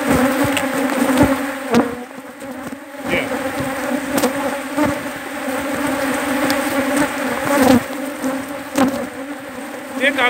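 A loud, agitated swarm of Africanized bees buzzes close and continuously, with occasional knocks and rustles breaking through the droning hum.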